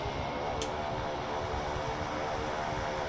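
Pilatus PC-12 turboprop in a flight simulator game, its engine and propeller roaring steadily and loudly throughout with a constant broadband drone, no talk over it.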